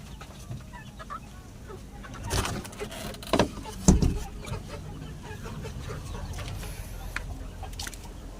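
Chickens of a new breed cluck in a sheltered coop area, with a few louder clucks and bursts standing out midway over a steady low background.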